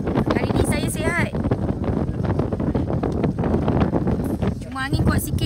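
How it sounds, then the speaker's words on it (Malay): Strong sea wind buffets the microphone out on the water, a loud, continuous rumbling roar that nearly drowns the people talking over it. "Cuma angin kuat sikit. Tak tahu korang dengar ke tak."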